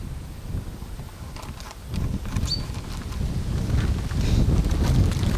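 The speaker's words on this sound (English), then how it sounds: "Hard in this wind." Outdoor wind buffeting a microphone, a steady low rumble that grows louder toward the end, with light scattered patter and rustling over it.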